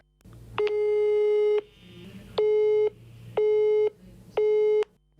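A telephone busy signal sounds on an unanswered call, four steady beeping tones about a second long separated by short gaps, clear and alone.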